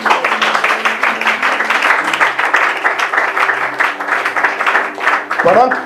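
A church congregation applauding: continuous clapping that swells and fades, mixed with raised voices throughout.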